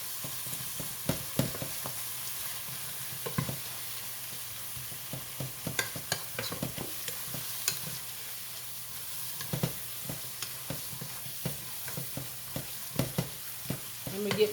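Ground meat frying and being stirred in a pan for stuffed bell peppers, a steady close sizzle broken by repeated scraping and stirring clatters throughout, with no talking.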